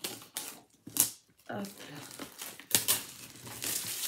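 Crinkly blister plastic wrapping is peeled and crumpled off the cardboard box of a diamond painting canvas, in several bursts of rustling and crackling, with a person speaking briefly in between.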